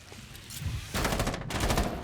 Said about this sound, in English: They're just running into the gunfire of Glossy, who's rappelled up on a window